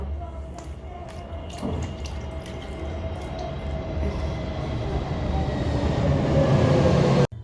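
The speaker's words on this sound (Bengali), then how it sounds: "প্রেসার কুকারে জল দিচ্ছি আলু দিয়ে" Water runs steadily into a pressure cooker holding cut potatoes in a home kitchen, a continuous pouring rush with a few faint clinks, ending in a sharp knock.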